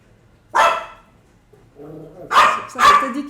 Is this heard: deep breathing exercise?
no